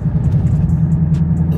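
A Ford Mustang engine gives a loud, close, deep rumbling rev with a throbbing pulse, and a few faint clicks sound above it.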